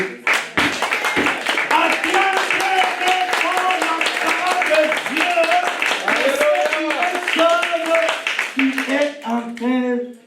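A church congregation clapping and acclaiming during a sermon: rapid, steady hand claps throughout with loud voices calling out over them.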